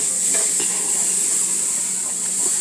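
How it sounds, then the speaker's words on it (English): Steady, close sizzling of garlic frying in a pan on low heat, a bright hiss throughout with faint scrapes of stirring mixed in. "Let me stir my garlic around. I don't want it to burn."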